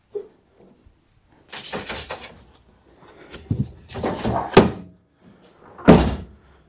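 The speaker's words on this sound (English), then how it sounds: "This door handle doesn't work." A Geo Tracker door handle is tried and the door is worked open and shut, giving several separate thumps and clunks spread over a few seconds. The sounds are close, with quiet stretches between them and no speech.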